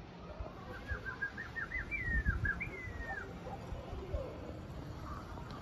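Elvan tumbler pigeons in a mixed flock flying overhead, with short chirping calls and soft wingbeat noise over a low rumbling background, faint and outdoors.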